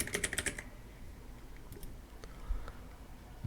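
Fast typing on a computer keyboard, with a quick burst of close, crisp keystrokes at the start, then a few scattered clicks against a quiet room.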